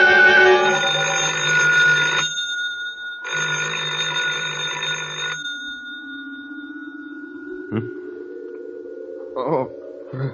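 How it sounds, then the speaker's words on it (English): An old-style telephone bell rings in two long metallic bursts separated by a short pause, loud and close, followed by a low hum and brief speech. "I thought I heard the phone."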